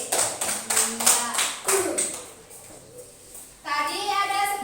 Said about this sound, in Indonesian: Tepuk tangan untuk Kakak Wafi.